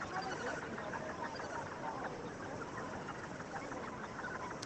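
Gannet chicks at the Muriwai beach colony in New Zealand call continuously to beg for food, a dense, raucous chatter of many birds nearby, with a person speaking faintly beneath the clamour.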